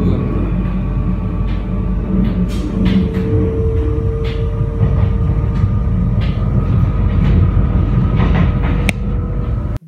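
Subway train ride with a steady, loud rumble and rattling clatter of the rail cars running continuously throughout, with no talking.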